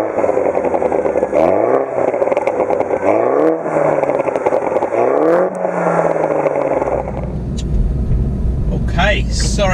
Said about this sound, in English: as soon as you do pop it into sports mode, you get those little bangs and pops from the exhaust system